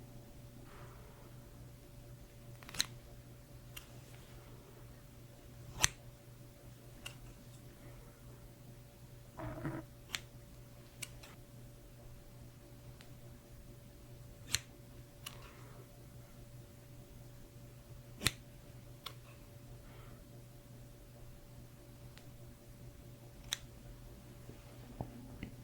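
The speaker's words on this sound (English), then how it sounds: "How many times do you hear the scissors?" A few sharp, faint snips are spaced out over a quiet background hum, each one brief and isolated.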